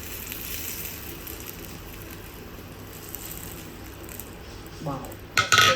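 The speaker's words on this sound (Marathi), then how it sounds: "तर आता हा तडका आपल्याला ओतायचा आहे यामध्ये." Hot oil tempering poured over raw mango chutney hits with a sudden sharp sizzle near the end, after a stretch of quiet kitchen background noise.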